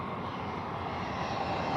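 A low-flying airplane near Heathrow roars close overhead, a loud, dense engine rumble that holds steady and swells slightly over two seconds.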